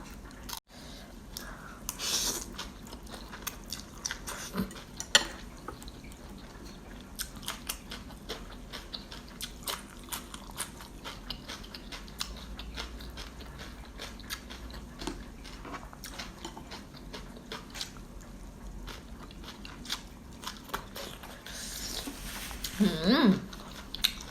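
Loud close-up eating of khanom chin rice noodles in spicy curry with pickled vegetables, steady wet chewing and crunchy bites throughout, with faint slurps and a few soft breathy sounds.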